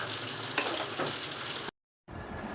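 Green chilies and home-grown Malabar spinach hit a pan of hot oil and a cooking curry, producing a loud, close sizzle that cuts off abruptly for a moment and then continues more quietly.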